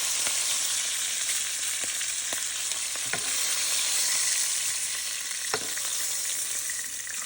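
Chicken pieces for coq au vin blanc fry in a pan, a steady loud sizzle running throughout with a few sharp pops and spatters breaking through.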